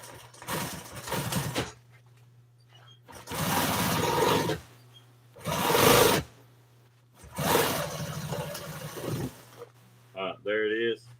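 A sewing machine stitches a piece of seat cover for an old Toyota seat, running in four loud, close bursts of a few seconds each with pauses in between. A voice speaks briefly at the end.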